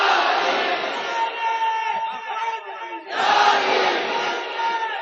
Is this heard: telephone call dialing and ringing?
no